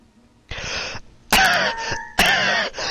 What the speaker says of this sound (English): Can you do more of a fake cough?